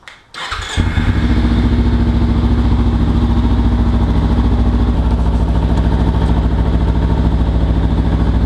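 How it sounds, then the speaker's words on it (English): A Kawasaki Ninja 300 motorcycle engine cranks briefly, catches and settles into a loud, steady, close idle with an even rapid pulse, no voices. "I'm going to start the bike and let it warm up for 5 minutes"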